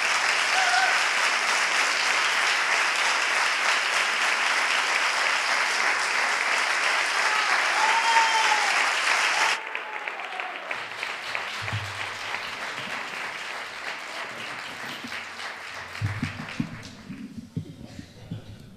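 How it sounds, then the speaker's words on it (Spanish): Theatre audience at a gathering of Three Kings associations applauding a guitarist and performer, steady loud clapping for about nine seconds that then drops to quieter, sparser claps with some low rumbles near the end. "Recibamos con un fuerte aplauso"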